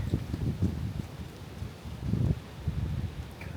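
Cold wind gusting outdoors, buffeting the microphone with a steady low rumble that swells in two stronger gusts, heard on its own without talk.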